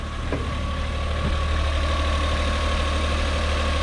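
A cold Opel Corsa engine idles high and steady, a continuous close hum with a faint tonal whine and no speech over it.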